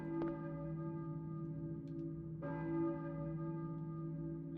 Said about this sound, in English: church bell, maybe. Who is ringing the bell?